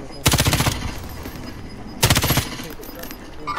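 Automatic gunfire in the video game Warzone, two loud rapid bursts roughly two seconds apart, each lasting about half a second, with quieter game sounds between them.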